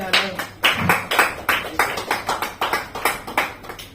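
A church congregation claps in steady rhythm to acclaim the Lord, about eleven crisp, evenly spaced claps from many hands over four seconds, with faint voices underneath.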